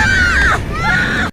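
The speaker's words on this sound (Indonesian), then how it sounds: "Mendengar teriakan kedua anaknya" Two children scream in shrill, sustained high-pitched cries that waver and briefly dip before rising again, loud and close, cutting off abruptly after little more than a second.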